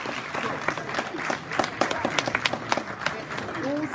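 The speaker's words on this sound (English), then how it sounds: "I think you should give teachers in the classroom a round of applause" Pupils at a school assembly clap for their teachers, a scattered, uneven patter of individual claps over a murmuring crowd of young voices in a hall, fairly close and moderately loud.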